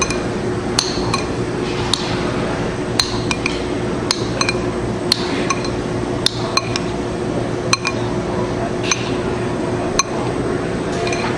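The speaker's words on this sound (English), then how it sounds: "Let's give it a good mix." A spoon mixes pineapple pico de piña salsa in a bowl, producing rapid, repeated sharp clinks and taps against the bowl over a steady background hum, close and fairly loud.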